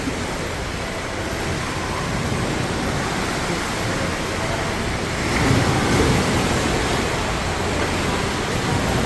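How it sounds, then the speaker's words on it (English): Heavy sea water washes across a ship's deck off Rhodes, Greece, a steady broadband rush with wind buffeting the microphone, swelling louder about halfway through, with no talking. "That's water all on the deck."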